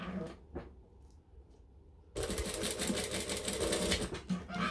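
A sewing machine stitches fabric near the sides, starting after a quieter pause and then running steadily and loudly at a fast, even rate.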